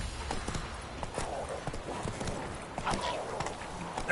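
Horse hooves clip-clop at a walking pace in The Witcher 3, a steady run of close, light hoof strikes over faint game ambience.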